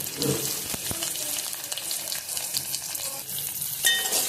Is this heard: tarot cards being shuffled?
no